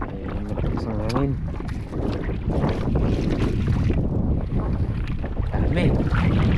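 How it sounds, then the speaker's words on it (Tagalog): Strong wind buffets the microphone in a steady roar, with people talking close by throughout. "Malamig lang talaga ngayon mga kamalas. Ayun, matakas ang hangin."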